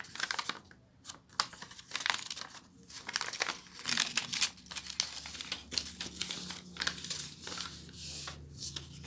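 Paper is folded and creased while making an origami toy gun, with close, busy crinkling and crisp rustles in quick bursts throughout.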